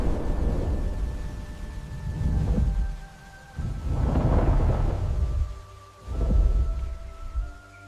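Deep rolling thunder in a prehistoric jungle storm, three long rumbling swells a few seconds apart, loud and booming, with a faint sustained tone beneath and no voices.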